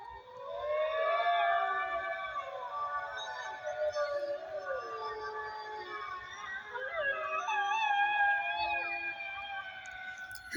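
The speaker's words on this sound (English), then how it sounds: "Something's howling with the wolves." At night in the woods, a distant animal howls together with a pack of wolves, a layered chorus of long wavering cries that rise and fall over about ten seconds, faint and far off.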